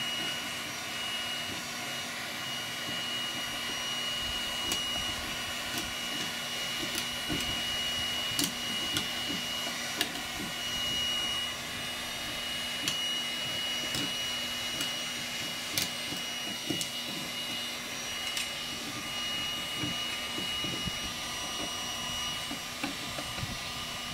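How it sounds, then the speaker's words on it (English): A HomeRight HeatPro heat gun blows with a steady, airy roar as a flat scraper strips heated paint off wood, the scraping adding faint ticks and scratches over the constant hum. "we're going to show you again how fast it's scraped off using the heat pro gun"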